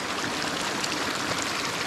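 Glacier-fed mountain stream in the Bolivian Andes near Sorata, rushing steadily with a dense, close hiss of flowing water, no voices.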